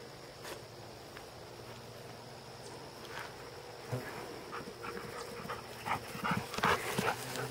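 A happy puppy on a northern Maine homestead field pants quickly and rhythmically near the microphone, with soft rustling and footstep-like shuffles growing busier toward the end, no talk during it.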